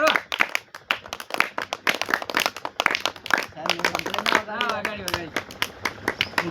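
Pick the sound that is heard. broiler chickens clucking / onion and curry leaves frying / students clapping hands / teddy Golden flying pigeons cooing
students clapping hands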